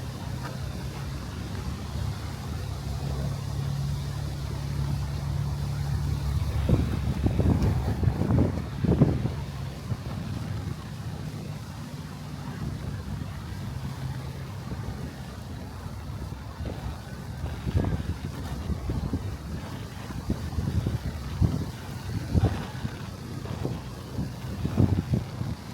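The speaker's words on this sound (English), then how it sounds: "You can see some of that wind is starting to come in now." Wind on the Brooklyn waterfront, a continuous loud rumbling gust noise buffeting the microphone for the whole stretch, rising and falling in strength, with no voices.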